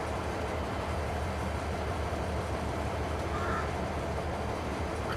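A freight train creeps slowly forward on its rails in Farming Simulator 22, a steady low rumble with faint rolling clatter, continuous and unbroken.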